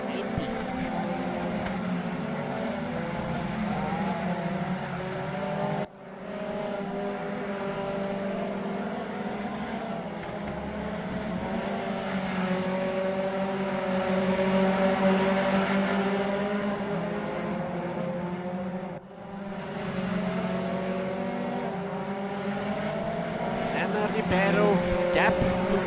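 Race cars, including a white Mazda, lapping the Nürburgring in a racing game, engines droning steadily and overlapping with brief cuts, while a commentator talks over them throughout.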